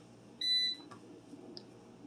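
A single short electronic beep from a preheating air fryer rings out clearly in a quiet room, followed by faint soft clicks and handling noises.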